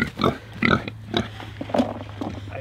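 Several short grunts from feeder pigs in bursts, close by, over a low steady hum in the background.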